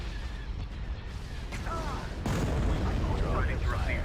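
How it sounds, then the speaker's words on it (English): Hypervelocity cannon firing in a Star Wars space battle game, a few heavy booming shots over a dense rumbling battle bed, with brief radio-style voice chatter mixed in. "Hypervelocity cannon firing."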